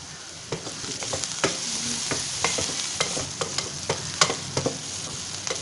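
Onions sautéing in a pan for samba broken-wheat upma, a steady close sizzle punctuated by regular sharp spatula taps and scrapes against the pan, without talk.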